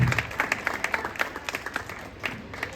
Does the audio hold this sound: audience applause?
yes